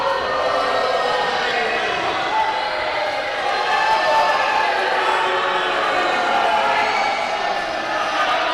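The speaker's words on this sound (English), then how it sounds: "The crowd is telling him what they think of that." A wrestling crowd reacts to a wrestler's boast at an indoor show, a steady, loud roar of jeering voices that fills the space without a break.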